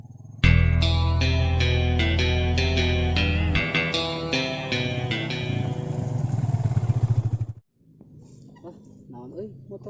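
Faulty motorcycle engine in a village setting, revving loudly in rough sputtering bursts for several seconds before abruptly cutting out, followed by quiet background noise.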